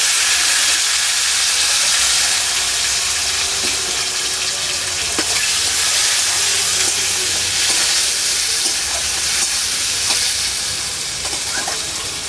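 Chopped half-ripe tomatoes sizzle in hot tempering oil for a Bengali banana-flower fritter curry. A loud, continuous frying hiss carries light stirring clicks.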